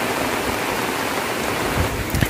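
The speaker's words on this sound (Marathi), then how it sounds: "सावंतवाडीसह सिंधुदुर्ग जिल्ह्यामध्ये आज सकाळी मोठ्या प्रमाणात पाऊस पडला" Heavy monsoon rain pours down in Sindhudurg district, a dense, loud, steady hiss of water that fills the whole stretch, with a few louder splashes near the end.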